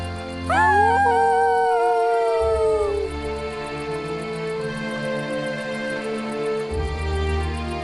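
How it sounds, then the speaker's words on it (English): Dinosaur and boy howl together under the stars as a story app sound effect: long rising-then-falling howls with layered harmonics, loud and close, fading over a few seconds above a steady background music bed. "He and Spot looked up at the stars and howled together."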